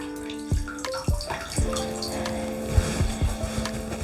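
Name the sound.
taking a soaked cutting mat out of bath water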